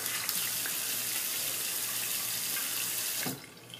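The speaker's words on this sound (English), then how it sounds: "I'm just going to set that aside and just wet my face here" A bathroom tap runs steadily into a sink while a man wets his face before a shave, a close continuous splashing flow that cuts off abruptly near the end.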